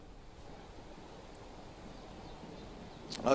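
Godavari floodwater at Dowleswaram, swollen after heavy rains, rushes past as a steady, faint roar of broadband noise, with a brief louder surge at the very end.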